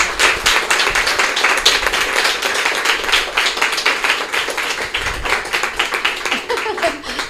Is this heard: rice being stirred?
no